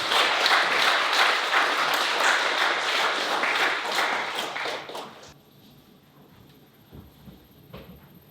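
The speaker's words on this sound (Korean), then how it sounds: "박수." A congregation applauds during a church service for a pastor's retirement and installation, with loud, fairly rhythmic clapping that stops abruptly after about five seconds, followed by quiet room noise and a few knocks.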